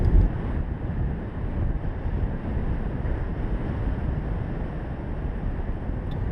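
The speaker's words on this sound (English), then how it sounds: "when driving on the highway, the wind noise can get pretty deafening" A Toyota Prius c THREE hybrid at highway speed produces a loud, steady roar of wind noise inside the cabin, continuous low rushing buffeting without any talk.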